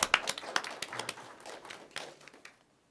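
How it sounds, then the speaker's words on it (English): A small audience at a board meeting gives scattered, sparse applause, a few hands clapping irregularly and quietly before dying away into silence. "So let's just give them a round of applause,"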